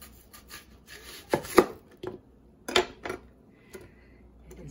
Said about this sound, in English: I'm gonna cut this onion up.